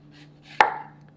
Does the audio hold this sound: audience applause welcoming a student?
no